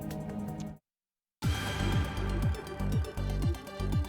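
A loud electronic music track at 120 BPM plays in short bursts, breaking into a brief silence before a driving beat with punchy kicks and sustained synth layers returns.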